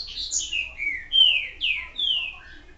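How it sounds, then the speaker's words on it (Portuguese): Birds in the video game Resident Evil 4 give a rapid run of bright, descending whistled chirps, about eight notes in under three seconds, loud and clear against a quiet background. "esses pássaros me irritam"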